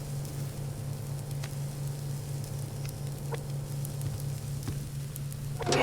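Liver and onions sizzle steadily in the oven in the survival video game Subsistence, a soft continuous frying hiss under a low hum, with a few faint clicks and no voices.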